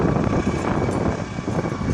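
A helicopter heads out on a mountain rescue, heard as a continuous, fairly loud whooshing drone with wind buffeting the microphone.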